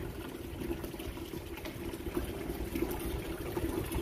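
A Siberian husky laps water from a basin, a steady wet splashing and slurping that continues close by without pause, with no voices over it.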